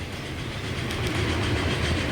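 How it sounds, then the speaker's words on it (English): An express train pulls in within the Transport Fever 2 game, its steady rolling rumble and clickety-clack of wheels over rail joints swelling slightly louder, with no voices over it. "Now we've got some train action. One of our express trains heading in."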